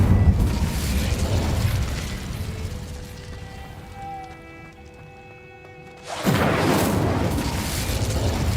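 An Incendio fire spell cast in Hogwarts Legacy erupts as a loud, sudden burst of roaring flame after a quieter stretch of soft tonal hum, then keeps crackling at full strength to the end.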